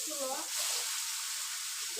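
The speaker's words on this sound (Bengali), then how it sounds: "মাছ ভাজার পরে যে তেল আছে ওই তেলে আমি লাউ ভাজে নেব" Pieces of bottle gourd fry in oil left over from frying tilapia, giving a loud, steady sizzle and hiss throughout, with a brief bit of talk at the start.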